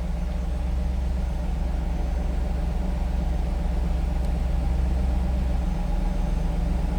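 A 1997 Pontiac Firebird Formula with a stock LT1 V8 running at idle, a deep steady rumble with a low throbbing pulse, close and continuous with no voices.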